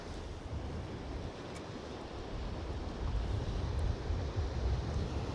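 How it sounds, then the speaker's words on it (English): Fresh wind buffeting a microphone on the Holderness coast at Withernsea, a steady broadband rush with low gusty rumble, swelling a little louder toward the end, with surf-like noise beneath and no voices. "that wind's a bit fresh"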